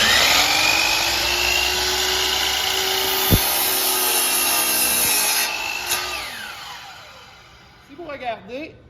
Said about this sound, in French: Je viens vérifier l'endroit où je vais scier avant de démarrer.